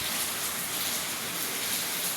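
Steady, dense rain from Typhoon Uwan hisses without a break, close and fairly loud, with no voices.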